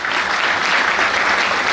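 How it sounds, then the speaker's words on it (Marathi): Seminar audience applauding steadily for a company CMD at a Riyansh Multitrade business meeting: dense, sustained clapping from a large crowd, loud and even throughout with no voices on top. "एकदा टाळ्या झाल्या पाहिजे"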